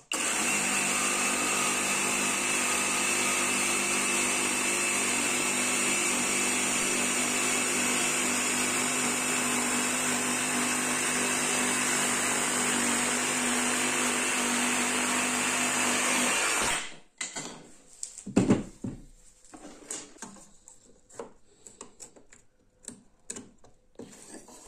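A jigsaw runs steadily and loudly for about seventeen seconds as it cuts along a guide rail, a continuous buzzing motor whine, then stops and gives way to scattered clunks and handling knocks of the tool and workpiece.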